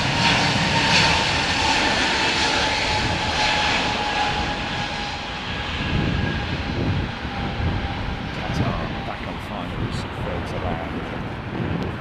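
Airliner jet engines at London Heathrow Airport roar loudly and steadily with a broad, wind-buffeted rumble throughout, easing slightly toward the end.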